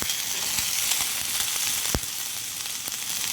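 Boiled potatoes hitting a hot pan for potato kurma, a steady close sizzle of frying with a few sharper crackles and a brief louder pop, continuing evenly without any voices.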